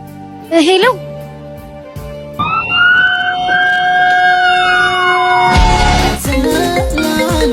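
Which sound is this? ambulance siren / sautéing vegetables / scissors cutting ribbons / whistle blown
ambulance siren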